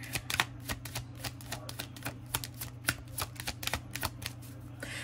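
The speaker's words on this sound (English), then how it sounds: "We do have playfulness down here while I continue to shuffle." Tarot cards are shuffled by hand in a quiet room, producing rapid close riffling snaps and flicks in an uneven rhythm, with no talking and a faint hum underneath.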